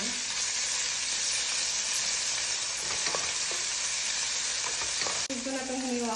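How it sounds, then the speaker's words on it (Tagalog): A tablespoon of ginger and garlic mix frying in a little oil in a pan, a constant bright sizzle with occasional spoon scrapes as it is stirred, close and continuous. "at nalagay na ako ng kunting oil sa pan. At ilalagay ko na itong 1 tablespoon ng ginger at garlic mix. Ayan, halu-haluin ko lang siya."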